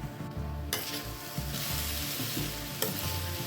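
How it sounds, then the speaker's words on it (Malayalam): Jackfruit thoran with curry leaves gets stirred in a pan, a faint steady sizzle with soft scraping and a sharp clink near the end, no voices. "ഇനി നമുക്ക് നന്നായിട്ടൊന്ന് ഇളക്കി ഒന്ന് തട്ടിപ്പൊത്തി അടച്ചു വെച്ച് വേവിക്കുക."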